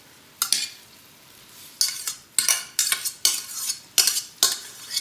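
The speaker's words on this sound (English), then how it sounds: "And toss in the pasta." Pasta being tossed in a pan for fried lemon pasta gives a series of sharp scraping, clattering strokes of utensil against pan, roughly eight bursts in an uneven rhythm, close and fairly loud with no talking.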